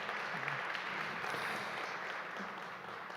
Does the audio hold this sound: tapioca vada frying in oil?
no